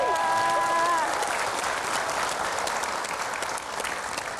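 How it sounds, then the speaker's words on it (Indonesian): A large audience applauds former Jakarta governors gathered on one stage, broad dense clapping with crowd noise, while a few sustained musical tones ring out at the start before the clapping carries on alone. "Berikan tepuk tangan."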